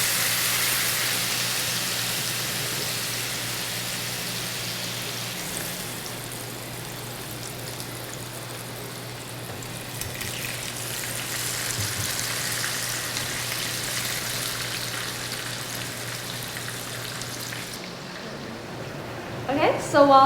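Steady broadband sizzle of pumpkin frying in hot oil, continuous and fairly close, with a brief clatter near the end.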